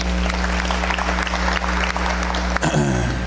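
Steady applause from a crowd at a press conference fills the clip, dense clapping under a low hum, ending with a brief shuffle.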